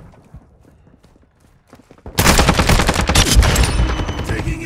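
Gunfire in Call of Duty Modern Warfare II erupts after two quiet seconds of faint ticks, becoming a loud, sustained barrage of rapid shots and impacts, close and dense to the end.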